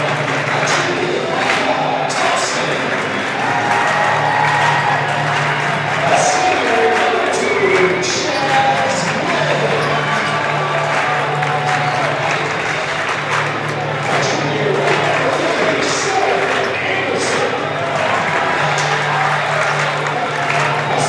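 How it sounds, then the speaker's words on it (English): Home fans in a high school gym cheer and applaud before a boys' basketball section quarterfinal, Perham against Hawley, a continuous dense roar of clapping and crowd noise with an announcer speaking over it. "Yellow Jacket fans making some noise"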